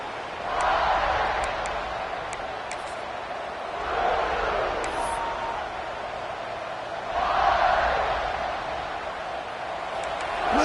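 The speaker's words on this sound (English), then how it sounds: "Listen to the crowd energy here in the early going." A large college football stadium crowd at Auburn versus Kentucky roars in broad swelling waves, rising and falling three times, with a few sharp noises popping above the din.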